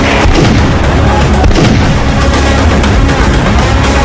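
Dense, continuous bursts of gunfire and booming shots during a police encounter at a residential complex in Punjab fill the whole stretch, loud and sustained with no pauses.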